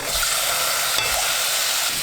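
Steady, loud sizzling of cod frying in hot perilla oil, a dense crackling hiss that continues throughout with a faint stir or clink near the middle.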